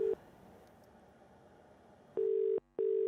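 Telephone line tones from an unanswered call: a short burst of steady tone at the start, then two longer tone bursts separated by a brief gap near the end, over faint background hiss.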